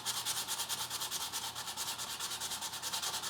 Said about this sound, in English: Start by sanding the metal in one direction